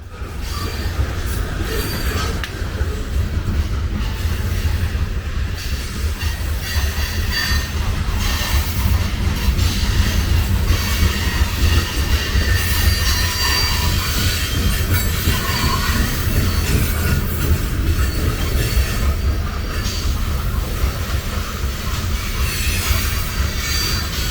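A long freight train hauled by CN locomotives 3863 and 2969 rumbles steadily past at close range, with grinding wheels, metallic squeals and clattering car noise filling the whole stretch.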